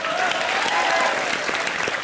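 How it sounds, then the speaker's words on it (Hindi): A studio audience applauds for Sana Khan on a comedy show, a dense steady burst of clapping lasting the whole moment, fairly loud with faint crowd murmur underneath. "सना खान के लिए जोरदार तालियां"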